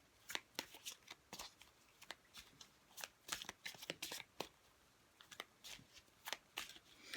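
Cosmic Tarot cards shuffled by hand in quick, crisp riffling bursts, close and fairly quiet, with brief pauses between runs and no talking.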